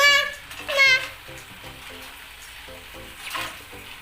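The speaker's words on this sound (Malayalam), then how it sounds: "നമുക്ക് അണ്ടിപ്പരിപ്പും ബദാമും മുന്തിരിയും വറുത്തെടുക്കാം." Cashews, almonds and raisins frying in ghee in a pan for macaroni semiya payasam, a soft sizzle with light stirring and clinks, while a voice talks over it in bursts.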